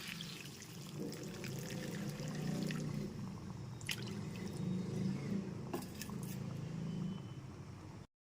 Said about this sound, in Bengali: এরপর এতে দিয়ে দিচ্ছি দেড় কাপ পরিমাণ গরম জল